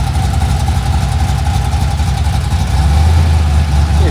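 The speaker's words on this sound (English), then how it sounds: "You can finally hear the car." A Pontiac Firebird drag car's engine runs with a loud, steady low rumble that swells slightly in the last second, with no talk over it.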